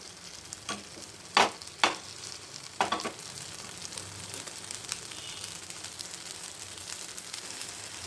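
Oil sizzles and crackles steadily in a pan as fish fries, with a few sharp clinks of a utensil near the start.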